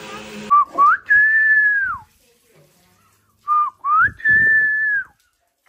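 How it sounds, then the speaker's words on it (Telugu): A person whistles to call a monkey in a village, two rising-then-level whistled phrases separated by a pause, loud and close, with brief background voice beneath. "అది విజిల్లో కోతి అని పిలవడం"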